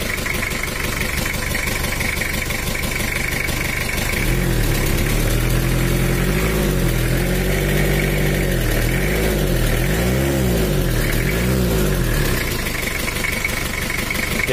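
A Toyota Kijang diesel engine runs rough and uneven, its loud steady chugging carrying a lumpy, misfiring pulse throughout, with deeper surging swells in the middle section.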